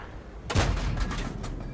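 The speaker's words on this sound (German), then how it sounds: "Oh, der Schuss ging zu kurz." A single loud cannon blast from a tank in World of Tanks, with an M4A3E8 Thunderbolt VII in play, bursts out after a quiet rumbling lead-in, then rolls off into a lingering rumble with a fainter secondary crack.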